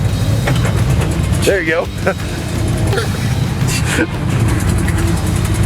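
A 1970 Chevrolet C20 truck engine droning steadily as the truck drives, a constant close rumble inside the cab with people talking over it.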